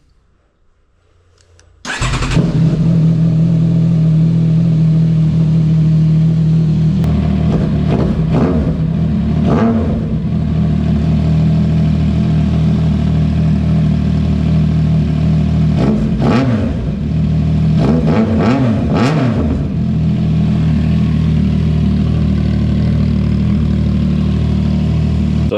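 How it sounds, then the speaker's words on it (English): A CFMOTO 675SS motorcycle engine cranks and catches after a quiet moment, then idles loud and close with a steady rumble, lifted by a few brief throttle blips. "Fire it up and we'll see if everything runs the way it should."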